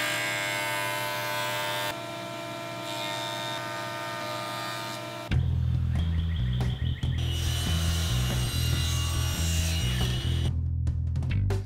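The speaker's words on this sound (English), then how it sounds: "the table saw rip fence, I'll rip this to rough width" A table saw rips a thick piece of 8/4 mahogany scrap to rough width: a steady motor whine first, then a louder, heavier cutting roar with rhythmic fluctuations as the blade bites through the wood, close and loud.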